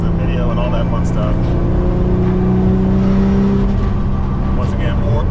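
A Nissan Skyline R32 GTR with a single turbo engine idles and hums loudly nearby, holding a steady tone throughout while a person talks over it.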